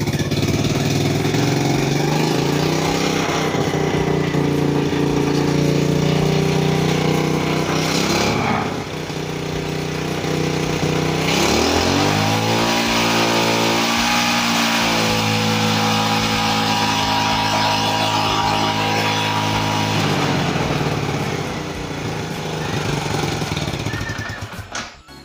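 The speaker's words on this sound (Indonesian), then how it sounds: "kita coba starternya guys. Kuat apa enggak dia ya di starter ya?" A motorcycle engine running on a LiFePO4 26650 battery pack starts and runs loudly close by, with a steady idle that dips briefly and then revs up into a rising, throbbing roar.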